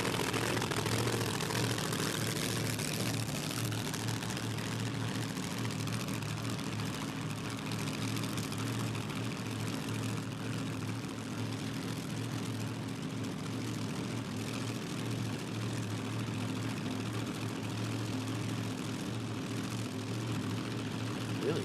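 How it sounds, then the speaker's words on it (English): A supercharged drag racing car runs at Willowbank Raceway in Queensland, Australia. A loud, continuous, distant engine roar carries across the track and holds steady for the full stretch without a break. "always good just to hear that supercharged sound"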